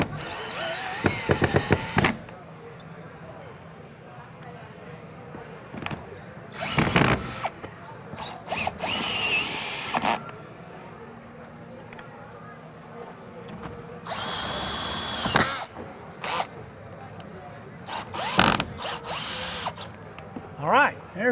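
A power drill runs a screw into a pre-drilled hole while fitting the bottom of a 416 parallel arm door closer. Several loud bursts of driving whir stop and start over about twenty seconds, with quieter handling noise between them.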